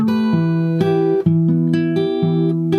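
Guitar plays section four of a song at a quicker pace, a short close run of plucked notes and chord changes ringing out alone.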